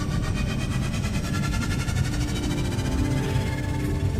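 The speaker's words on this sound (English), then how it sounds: "You can hear the familiar thrum of the engine." An engine thrum rolls on as a steady, loud low rumble with a faint rhythmic pulse, close and unbroken, used as a sound effect during a tabletop roleplaying session.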